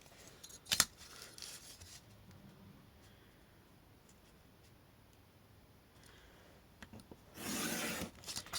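Paper is cut with scissors for handmade craft tags, giving a faint crunch near the start and a louder rasping snip toward the end, with soft rustling in between and no talk.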